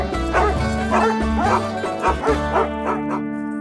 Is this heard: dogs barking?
yes